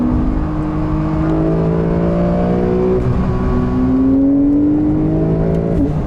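A new Porsche 911 (992) accelerates out of a corner with its engine rising through the gears, a loud sustained climbing tone with shifts in pitch, heard from inside the car.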